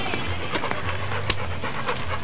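Dogs panting rapidly and steadily up close after playing in a front yard, with a continuous breathy rhythm and some faint background noise.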